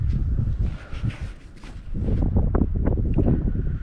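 Strong wind gusting outdoors on a frozen lake in northern Wisconsin during ice fishing, a loud continuous low roar buffeting close to the microphone, with a brief lull midway before the gusts surge back.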